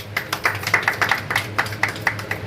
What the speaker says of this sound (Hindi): इसके लिए जोरदार ताली बजनी चाहिए